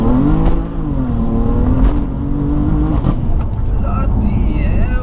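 BMW F80 M3 accelerating hard on a wet road, its engine roaring loud and close as the revs climb steadily, with a brief dip before pulling again.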